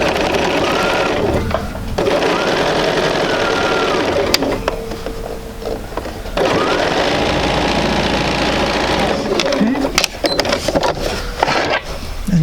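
A sewing machine runs a quarter-inch seam through quilting fabric, a loud, close, continuous mechanical whir with brief pauses and rhythmic knocking of the needle, with no talking over it.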